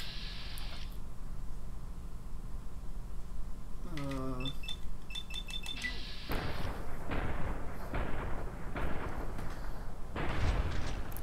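Gunfire in the video game Fallout: New Vegas: a burst of sharp shots and mechanical clicks mid-clip, then a series of heavier booming shots, all under continuous background music and game noise.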